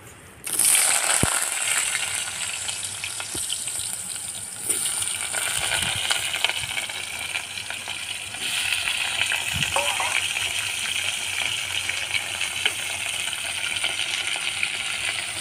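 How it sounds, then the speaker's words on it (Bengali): Salted potato pieces sizzle and crackle in hot mustard oil in a pan, a dense, steady frying hiss that runs loud and close throughout with occasional sharper pops. "গরম হয়ে গেছে, আলুটা ভেজে নেব।"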